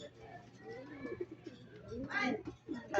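Racing pigeons landing at their loft: soft close cooing and wing flutters under a voice talking, with a louder burst of flapping near the end.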